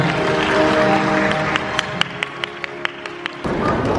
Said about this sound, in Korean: 고생한 파동 어린이들에게 한 번더 박수 부탁드리겠습니다